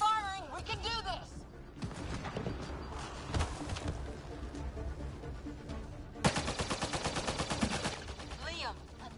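Video game gunfire: sustained bursts of automatic fire and scattered shots, loud and dense, with shouted voices of characters over the shooting.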